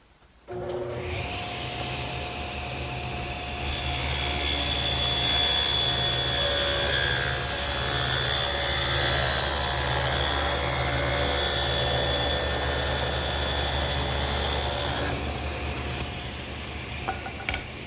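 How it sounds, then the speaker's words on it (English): A power tool routs a groove along two wooden pieces for a chest top, a steady loud whine rising after a second, holding for about fourteen seconds, then winding down, with no talk. "I'm going to take these two pieces here and run a groove all the way up"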